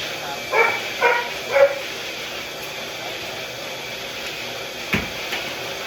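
A small Chow dog gives three quick, sharp barks in a row, followed by a fainter yip a few seconds later over steady background noise.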